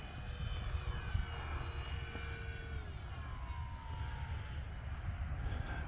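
A model airplane flies overhead under a dark, overcast sky, its engine a steady, moderately distant drone against broad wind or background hiss, with no talk.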